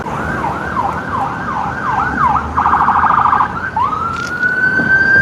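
A loud, close ambulance siren wails in rising and falling sweeps, switches to a fast yelp, then returns to a long wail over road noise.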